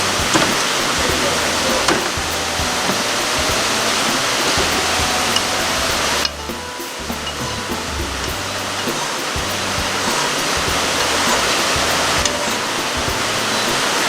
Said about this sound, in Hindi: क्या बरसात हो रही है यार आज